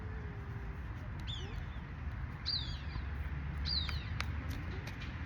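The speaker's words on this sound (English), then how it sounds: "You hear that noise? That's that bird I'm telling y'all." Bird calling outdoors, a few short chirping calls repeated at intervals, fairly clear above a steady low background hum.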